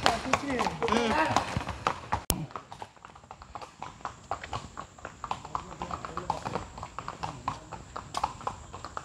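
Horse hooves clip-clop steadily on a road at the car-free Matheran hill station in India, a close, rhythmic series of hoof strikes with talk over the opening seconds.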